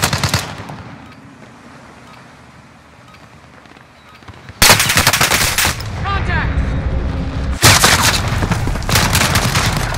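Loud sustained machine gun fire from a video game: after a quieter stretch, two long rattling bursts of rapid shots fill the scene up close and dense.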